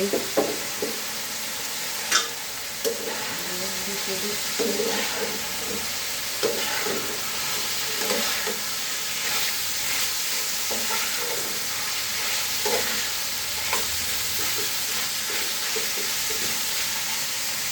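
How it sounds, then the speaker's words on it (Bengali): Chicken pieces fry in a pan for a chicken chap, with a continuous close sizzling hiss and scattered light pops and clicks throughout. "তো দেখুন এই পর্যায়ে এসে মাংসটা ভাজা হচ্ছে।"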